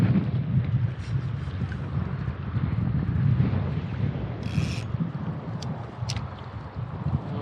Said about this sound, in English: Wind's a little bit of a pain, but give it a go.